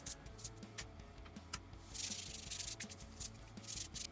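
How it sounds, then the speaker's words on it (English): Sandpaper rubbing along the edges of a handmade phone holder in a workshop, steady scratchy strokes coming in quick repeated passes, close and fairly loud, with no talking. "Let's sand down the edges so that, because that makes it look nice."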